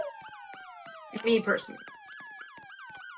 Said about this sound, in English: I hear police sirens right now